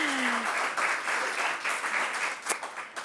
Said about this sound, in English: if we could please give her a round of applause to welcome her.